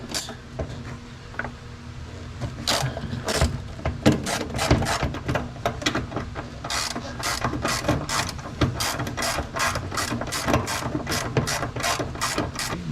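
A ratchet with a 14mm socket clicks through a run of quick, crisp pawl ticks while loosening the upper strut nuts inside the trunk of a 1971 VW. The bursts are close and moderately loud, with short pauses between them.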